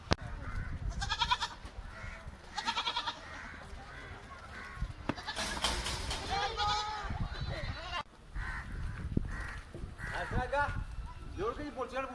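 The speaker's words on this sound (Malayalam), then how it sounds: "മേയാൻ വിട്ട ആടുകൾ വൈകുന്നേരം ഏകദേശം അഞ്ചര മണിയായി അപ്പോൾ എല്ലാവരും ഇങ്ങനെ കൂട്ടിലേക്ക്" Several goats on a goat farm bleat repeatedly while returning to their pen in the evening, some near and some farther off, overlapping in a noisy herd chorus with scuffling movement throughout.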